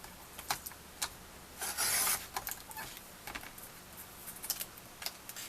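A scoring tool drawn across paper for a card-making craft project, a short raspy rub lasting about half a second amid quieter ticks and taps of handling on a tabletop.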